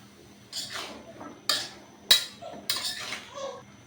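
A spoon stirring chopped bottle gourd into cooked spices in a metal pan, several distinct scraping clinks and knocks spaced about a second apart, close and moderately loud, otherwise quiet.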